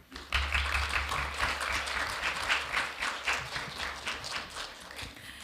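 Audience at a governance forum applauds a presenter, dense even clapping that starts abruptly and holds steady before tapering slightly, moderately close.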